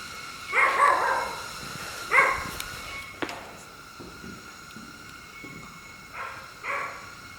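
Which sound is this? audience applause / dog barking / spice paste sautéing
dog barking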